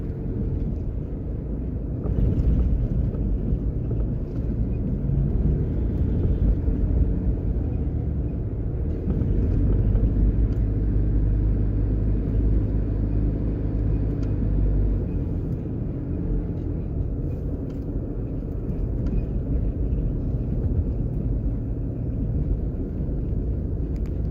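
A car driving into Kingston, Jamaica, with a steady low engine and road rumble that holds for the whole stretch, close and fairly loud with wind buffeting. No one speaks.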